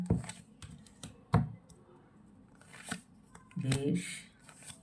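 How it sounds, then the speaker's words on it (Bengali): Tarot cards are shuffled by hand in quick, crisp riffling bursts, close and fairly quiet, with soft pauses between handfuls and a brief voice sound near the end. "এই কার্ডটা যখন আমি জাস্ট শাফলিং করাটা শুরু করেছিলাম"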